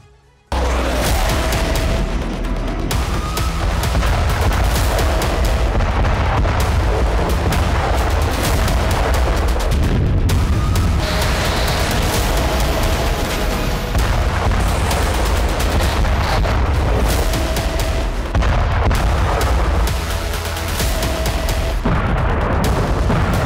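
Continuous heavy booming and rumbling blasts from battlefield explosions in the Russia-Ukraine war, loud and dense, with crackling gunfire-like bursts throughout, no talking.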